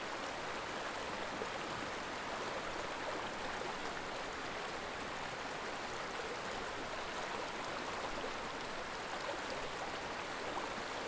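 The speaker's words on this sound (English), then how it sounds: "While listening to the creek" A creek flows steadily through autumn woods in the North Woods, a dense, continuous rush of water that holds a constant level for the whole stretch with no voices.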